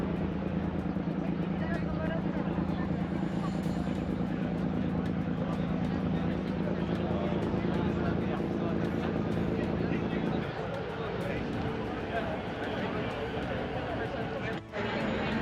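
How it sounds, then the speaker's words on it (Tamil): A large car ferry carrying vehicles from Toronto to Centre Island makes a steady low engine drone and rumble throughout, with a voice speaking over it. "அவ்வளோ பெரிய ஃபெரியன்னு பாருங்க. போட் வலிக்கிறது."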